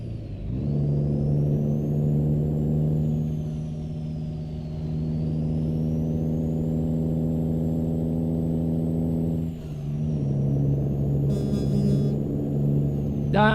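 A Volvo VNL semi-truck in American Truck Simulator drones loudly under Jake brake engine braking, a sustained deep rumble that dips briefly and then resumes after a gear drop.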